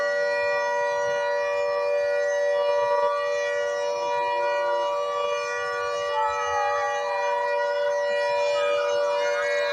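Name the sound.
civil defense all-clear siren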